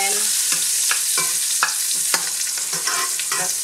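Broccoli rabe, mushrooms and bacon sautéing in a pot, a steady sizzle broken by repeated scraping stirs of a utensil, close and clear with no talk.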